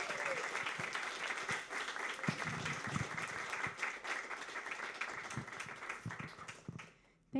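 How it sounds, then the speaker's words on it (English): An audience at a poetry reading gives a poet a sustained round of applause. Many hands clap densely at a moderate distance, the sound thins out near the end, and a brief voice cuts in at the close. "let's just give another huge round of applause for Alizia Pir Mohammed"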